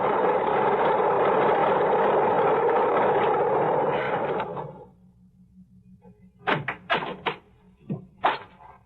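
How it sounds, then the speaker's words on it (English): Single-engine plane taxiing in an old radio drama, a loud steady engine drone that winds down and stops halfway, followed by a low idle hum and several sharp knocks and clatters. "I got to the airport just as the plane taxied up the strip. Single-engine job, just right."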